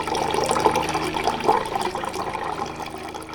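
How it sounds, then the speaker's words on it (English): Cold water from a countertop dispenser pours steadily into a container for a few seconds, a continuous splashing stream at close range with no voices. "this cold water dispenser is going to help us stay hydrated with cold"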